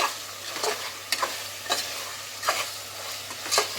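Chicken frying with red chilli powder in a pan for a chicken pulao: a steady sizzle, and a sharp scrape of the spoon stirring about every second.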